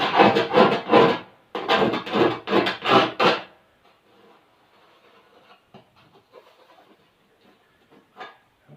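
A hand tool rasps and scrapes in short strokes while deburring an inside burr on a metal fuel tank part for a CH 750 STOL aircraft, loud and close for a few seconds, then quieter scattered scraping and clicks.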